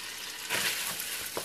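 Italian sausages sauté in olive oil and butter in a wok, giving a steady, dense sizzle with a few louder stirring surges near the end.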